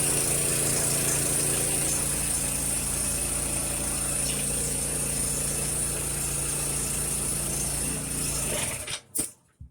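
Small engine of a mini backhoe running at a steady, loud, close idle with a constant buzzing drone, then sputtering and cutting out abruptly near the end, leaving only a few faint knocks.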